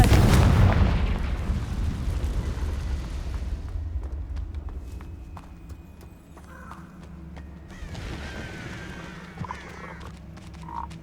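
Confringo fire spell explosion in the game Hogwarts Legacy: a loud, close burst that rolls into a long rumbling decay, followed by lighter game ambience and faint clatter.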